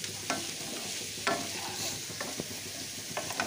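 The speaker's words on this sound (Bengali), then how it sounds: "কচুগুলোকে দিয়ে আরও বেশ কিছুক্ষণ আমি এটাকে কষিয়ে নিচ্ছি" Fried taro pieces stirred and cooked down in a pan, a low steady sizzle broken by several sharp spoon scrapes and knocks against the pan, close and fairly quiet, with no voices.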